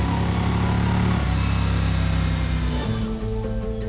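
Yamaha Star Venture cruiser motorcycle with an air-cooled V-twin engine, running in a loud, steady rumble with a slight drop in pitch near the end, no talk over it.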